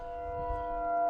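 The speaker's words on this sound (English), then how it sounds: "Not sure what's with all the sirens right now, but something's going on." Sirens wail from somewhere near the Mississippi River as steady sustained tones, moderately loud and continuous, with low rumbling underneath.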